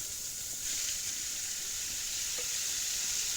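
Beets stirred into a hot frying pan for Ukrainian borscht give a steady, soft sizzle with faint scraping, continuous and fairly quiet.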